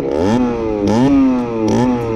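Up close, a 50cc motorcycle engine revs three times in quick succession as the rider pulls away, each rise in pitch dropping back between throttle bursts.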